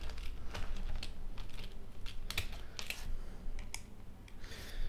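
Small screwdrivers tried one after another in the tiny screws of a Rode NTH-100 studio headphone, giving soft close clicks and scrapes in an uneven rhythm over a quiet room.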